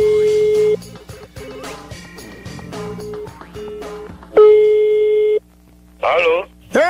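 A telephone call in a prank-call setting, heard as a series of loud, close steady tones in bursts with short gaps, interrupted by brief voice-like sounds near the end.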